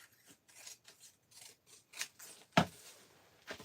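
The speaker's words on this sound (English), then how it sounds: "Actually, the last couple I think I'll just cut with the scissors." Scissors snip through paper to cut out shapes, giving a close, quiet run of short crisp cuts and rasps with a louder snip near the end.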